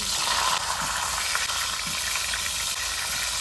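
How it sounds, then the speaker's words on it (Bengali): Cut eggplant frying in hot oil in a wok gives a steady, loud, close sizzle with a constant bright hiss and faint crackles. "এবার দেখুন এটা এখানে ভাজা হচ্ছে"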